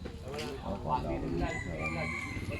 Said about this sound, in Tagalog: Ay, may mga manok dyan eh.